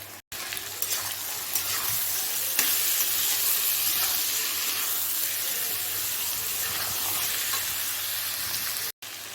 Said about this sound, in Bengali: এবার আমি সমস্ত মশলাগুলোকে ভালো করে মিশিয়ে নেব।